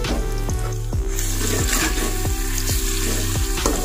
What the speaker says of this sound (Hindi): प्याज हमारी हल्की हल्की ब्राउन होना शुरू हो गई है